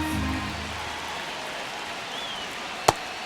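Steady broadband crowd murmur fills a baseball stadium during the ninth inning of a one-run Pirates vs. Braves game, a continuous even wash of distant noise with one sharp brief crack near the end.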